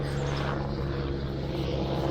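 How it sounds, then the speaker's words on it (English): A constant low droning rotor and engine roar overhead, steady and fairly loud, filling the whole stretch without pauses. "Excuse the helicopter."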